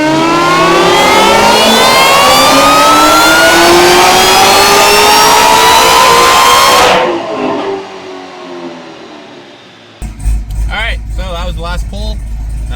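A 2018 Camaro ZL1 1LE engine on a tuning pull screams loudly as revs climb steadily for about seven seconds, then drops off sharply and winds down, followed by someone talking close by.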